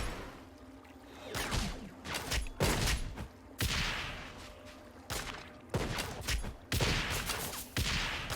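A ranged character in Oninaki shoots while floating in the air, giving a string of sharp, bright shot bursts at uneven intervals, each cracking out over a low, steady game background.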